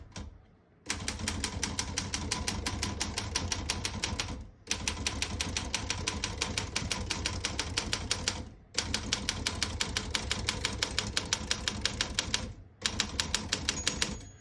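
Fast, continuous clacking of a 1937 Royal KHM manual desktop typewriter, keys striking in rapid bursts separated by brief pauses, close and loud.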